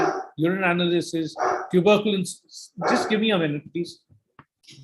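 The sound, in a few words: dog barking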